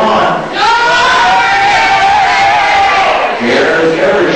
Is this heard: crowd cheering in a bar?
yes